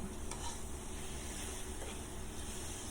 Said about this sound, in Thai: ผัดคลุกเคล้าให้เข้ากัน